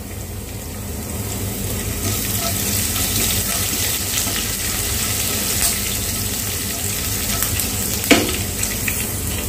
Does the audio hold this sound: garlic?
yes